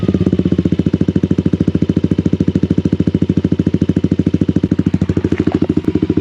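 A Yamaha Aerox scooter with a Krace Ultra Samlong aftermarket exhaust idling close by, a loud, rapid, even chug of pulses that holds steady throughout with a faint blip near the end.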